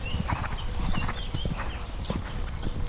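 Horse hooves clip-clopping in a steady trot-like rhythm during a riding exercise in which the horse turns on a curve, close and fairly loud, with no talking.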